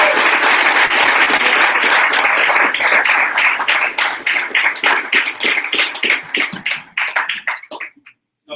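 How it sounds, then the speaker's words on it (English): Applause from a startup pitch-competition audience after a team's presentation: loud, dense clapping that thins out into a few scattered, separate claps before stopping. "Round of applause for Misfit."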